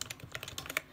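Typing on a Kogan G92 one-handed plastic gaming keyboard, a quick run of close, crisp key clicks in an uneven rhythm with no talking.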